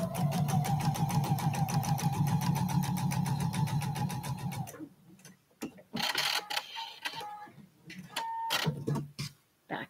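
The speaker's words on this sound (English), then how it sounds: "I am going to sew here along my line" A sewing machine stitches quilt binding in a rapid, even run of needle strokes for several seconds, then stops; scattered handling clicks and rustles follow as a voice speaks.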